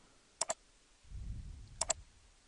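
Computer mouse clicked twice in quick double taps, two crisp close clicks early and another pair near the end, with a soft low rumble between them.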